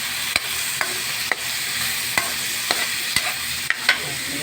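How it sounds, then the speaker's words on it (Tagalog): Tomatoes frying in a pan with a steady hiss of sizzling, broken by sharp repeated clicks and taps of a utensil stirring against the pan about every half second, close and without talk. "haluin hanggang sa maluto yung kamatis"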